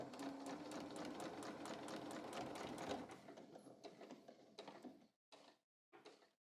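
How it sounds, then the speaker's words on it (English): A sewing machine stitches the side seam of a pair of pants, a fast rhythmic mechanical whir close up that slows into short bursts and stops near the end. "now I'm going to sew"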